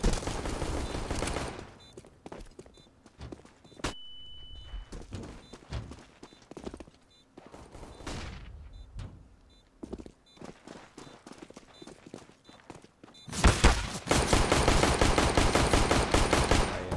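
Rapid bursts of gunfire from the player's gun in a team shooter video game, with loud volleys at the start and a sustained barrage near the end, separated by quieter stretches of scattered shots.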